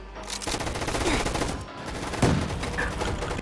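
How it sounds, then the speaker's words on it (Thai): Gunfire in the video game Gun Fight Arena, dense rapid bursts running through the whole stretch with a sharper crack near the middle, loud and close, with faint talk mixed in. "ผมยิงละ"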